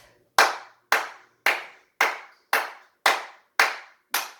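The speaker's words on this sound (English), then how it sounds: "8 claps." Eight sharp hand claps in a steady, even rhythm during a children's ballet class, each crisp and close with a short decay, with no talking over them.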